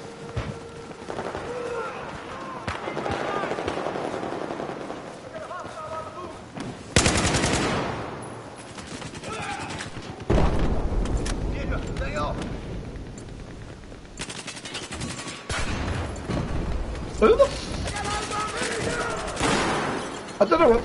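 Sustained gunfire from a Battlefield 4 match, bursts of automatic fire and individual shots repeating across the stretch, loud and close at times, with a heavy burst near the middle and a speaking voice now and then.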